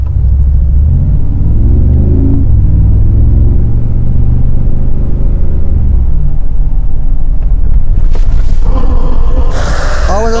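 Mercedes-AMG G-Class with ESP switched off on a test track at Graz: a loud, steady low engine rumble throughout, shifting pitch as it maneuvers, with a burst of tire and brake noise near the end.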